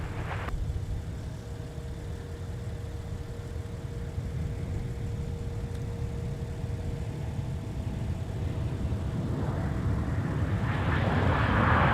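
A United Airlines jet on flight 732 from Denver lands at Minneapolis–St. Paul airport, a steady low engine rumble with a faint whine that swells louder toward the end.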